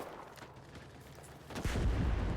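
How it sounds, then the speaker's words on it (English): A large explosion in the World War II shooter Enlisted, a sudden loud booming blast that erupts about halfway through after quieter distant rumbling, heard alone without talk. "that was a large explosion"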